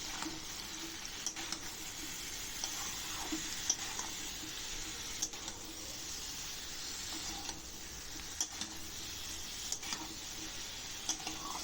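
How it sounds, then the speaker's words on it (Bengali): Ridge gourd curry seasoned with turmeric and salt fries in a pan while being stirred, giving a steady sizzle with scattered scraping and clinking from the spoon, close by and without talk. "তারপর এই যে দেখো একটু নেড়ে চেড়ে নিচ্ছি আমি"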